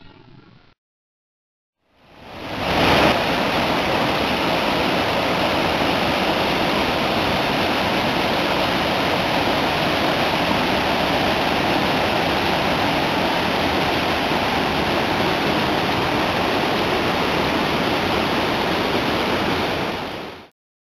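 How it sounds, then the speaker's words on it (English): Fast-flowing Soldier Creek rushes beside a trail in a steady, loud broadband roar that begins after a brief quiet moment and then continues unbroken. "We're paralleling along Soldier Creek, which is not very far away at any point. It's also flowing at a pretty good clip."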